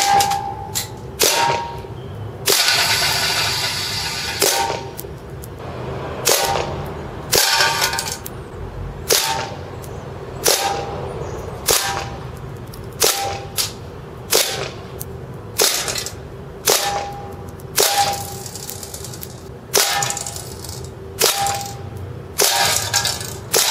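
A Smith & Wesson M945 gas airsoft pistol fires BBs at a can, a long series of sharp, close shots in irregular rhythm, each with a gas snap and a metallic ping.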